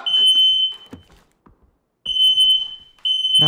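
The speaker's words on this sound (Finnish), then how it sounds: "täällä rupeaa satana palohälyt jo soimaan" A smoke alarm shrills in the background of a PUBG esports broadcast: a loud, steady high-pitched tone sounds twice, breaks off for over a second, then returns and keeps sounding, with clutter and knocks in the gap.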